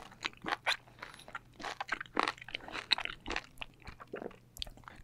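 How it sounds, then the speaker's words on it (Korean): Someone chews raw bluefin tuna belly sashimi up close, with the firm white fatty parts giving off soft, repeated crunchy, wet bites in a steady rhythm throughout. "참다랑어 배꼽살은 하얀 부분이 꼬득꼬득 씹는 식감이 좋아요."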